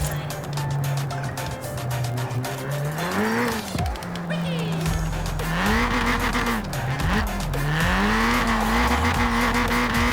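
A racing car engine in Forza Horizon 4 roars and revs through gear changes, rising and falling in pitch, with tire squeal and a steady engine drone throughout.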